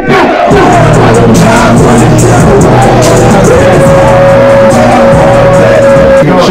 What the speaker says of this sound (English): My crowd is fucking lit.